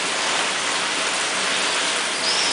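Dense, steady hiss of water spray simulating very intense rain in a sealing test of an Armadillo EVS vehicle, constant and loud throughout with no voices.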